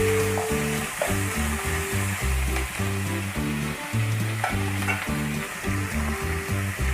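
Chopped ginger, green chilli and garlic frying together in a pan, giving a steady close sizzle with the scrape and clatter of stirring running throughout.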